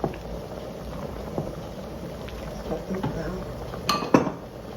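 Macaroni noodles being stirred in a pot of boiling water on a stove for homemade mac and cheese. A steady bubbling wash runs throughout, with a few metal clinks and scrapes near the end.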